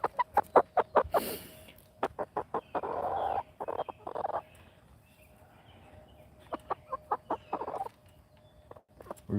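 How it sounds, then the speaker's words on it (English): Two chickens clucking close by, roosting up high rather than in the coop on a farm, short rhythmic clucks in bursts alternating with longer squawks, with a few quiet gaps. "We've got 2 strange chickens that decided to jump up here instead of go in the coop."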